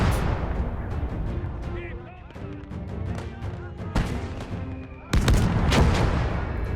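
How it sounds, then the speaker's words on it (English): A 3-inch mortar firing in Gates of Hell, heavy booms and rolling gunfire across a busy battlefield, with a sharper loud blast near the end under a layer of game voices. "the 3-inch mortar was doing a very good job"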